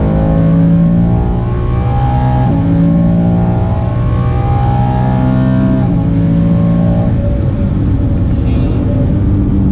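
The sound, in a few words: 2018-2019 Mustang GT with Palm Beach Dyno tune accelerating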